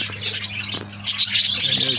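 Pet birds in a cage chirp and squawk in quick, close overlapping bursts, shrill and lively with a low hum underneath, no talking.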